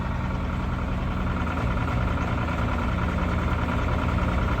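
A diesel engine grumbles steadily at a rough idle once the clutch is let out, a continuous loud low rumble with no breaks and no voices.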